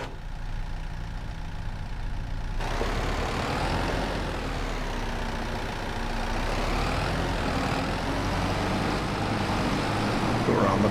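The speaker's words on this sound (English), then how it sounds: "Grab the skid steer." A skid steer loader in Farming Simulator 25 runs with a steady, continuous engine drone, close and even throughout after a quieter start.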